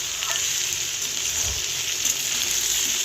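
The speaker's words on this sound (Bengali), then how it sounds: "আলু মূলো গাজর ভালো করে আমি নাড়াচাড়া করে নিচ্ছি তেল" Potato, radish and carrot fry in white oil with a dried red chilli tempering in a wok as they are stirred, a close, bright sizzle with a few soft scraping stirs underneath.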